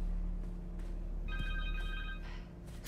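Cell phone ringing in the video game Spider-Man 2, a bright electronic ringtone chirping in one short burst over a low hum of game ambience, with brief scuffing noises around it.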